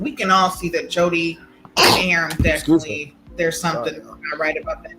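A sudden sneeze bursts out in the middle of ongoing conversation.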